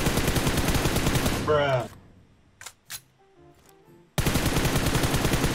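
Rapid automatic gunfire in the shooter game PUBG, loud and dense at the start and again at the end, with a few isolated shots in a quieter gap; a voice speaks briefly in the middle.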